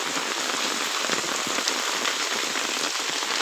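Heavy rain falling steadily in a village, a dense, even hiss of drops pattering on surfaces without pause, fairly loud and close, with no voices.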